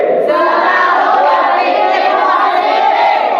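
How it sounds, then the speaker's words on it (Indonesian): An audience clapping hands together, a dense, continuous burst of applause and crowd noise filling the room at close range without a break. "tepuk tangannya"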